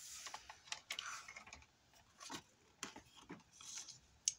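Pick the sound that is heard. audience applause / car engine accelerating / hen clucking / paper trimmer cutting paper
paper trimmer cutting paper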